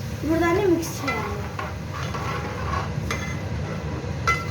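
Fish curry in a pan being stirred after tamarind water is added, with a few scraping and clinking strokes of a spoon against the pan over a soft, wet sizzle; a brief voice-like tone sounds near the start.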